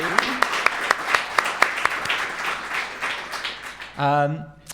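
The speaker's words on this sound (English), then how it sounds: "Let's give him a round of applause." A small theatre-show audience applauds Laser Beak Man artist Tim Sharp with sparse, distinct claps in a loose rhythm, ending with a voice speaking briefly.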